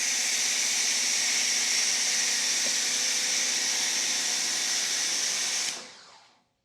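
An Armour Detail Supply foam cannon on a 1.25 orifice with a 13-amp pressure washer sprays foam as a loud, steady high hiss, close and unbroken for several seconds before cutting off and fading to silence.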